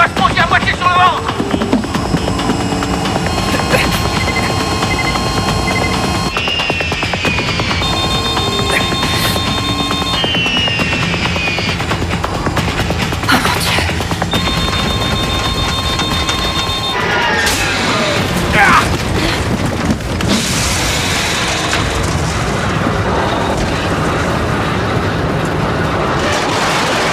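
An airplane comes in to land with its landing gear not fully extended, a loud, continuous roar and rumble with shifting tones and heavy noise throughout.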